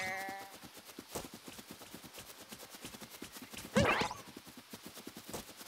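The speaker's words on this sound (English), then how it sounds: "Sheep." A sheep in the video game Super Mario Odyssey gives a single loud bleat partway through, over a steady run of rhythmic, clip-clop-like game sounds.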